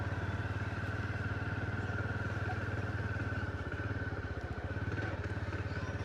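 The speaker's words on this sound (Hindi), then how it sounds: "आ गई है काड़ू भैया की नई बाइक" A new motorcycle idling nearby with a steady, even engine thrum and faint mechanical clatter, holding constant throughout with no talk.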